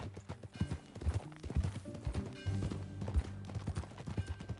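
Horse hooves clip-clop steadily in Red Dead Redemption 2, a near, rhythmic series of hoof strikes on the ground under a low background score.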